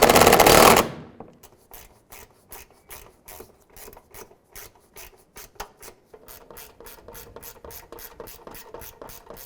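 A hand ratchet tightens the grille bolts on a 2001-2007 Ford Escape, a loud rush of noise at the start giving way to steady, close clicking of the pawl in quick rhythmic bursts with no speech.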